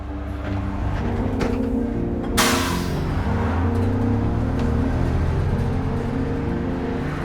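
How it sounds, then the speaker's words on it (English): A bus engine hums and rumbles steadily as it pulls away through a country town, a low continuous drone with a brief airy hiss partway through and no voices. "The bus rolls out of town, away from Chellamuthu's mud hut"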